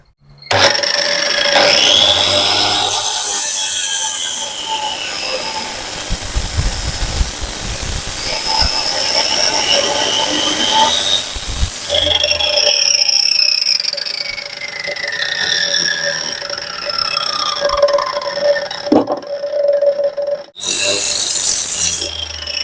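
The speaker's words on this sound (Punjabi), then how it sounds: "ਆਜੋ ਹੁਣ ਆਪਾਂ ਇਹਨਾਂ ਲੋਹਾ ਕੱਟਦੇ ਆ ਆਹ ਵਾਲੀ ਚੌਰਸ ਪੈਪ ਬਈ ਸੀ ਕਲਾਸ ਪੈਪ ਹੈ" A homemade cutter built from an angle grinder cuts through one-inch square iron pipe. A loud, steady hissing rasp runs for about twenty seconds, and the whine of the motor audibly rises and falls as the cut goes on.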